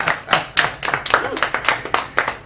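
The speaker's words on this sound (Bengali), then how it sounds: "সবাই হাত তালি দেন।" A small group of people claps hands in a burst of uneven, overlapping claps, fairly close, with some faint voices in the background, welcoming an elder's arrival in a home cooking-school scene.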